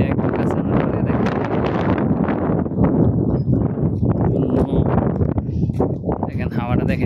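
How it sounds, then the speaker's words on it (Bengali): Strong desert sandstorm wind roars continuously across the clip, loud gusty buffeting of the microphone with sand blowing, sustained throughout with no pauses. "এটাকে বলে বালুর জ্বর বন্ধুরা। সেই বালু উঠতেছে হাওয়ার সাথে।"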